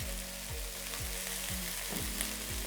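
Diced carrot and celery frying in a pot while being stirred, with a steady close sizzle and a regular rhythm of stirring strokes about every half second, no talking.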